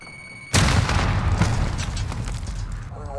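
Grenade exploding in Call of Duty, a sudden loud boom after a short quiet lead-in, followed by a rumbling tail of debris and crackle that slowly fades.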